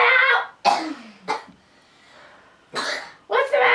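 A child coughs in several harsh, separate bursts, the first few close together and then two more after a brief pause, loud and near, with no other talk over them.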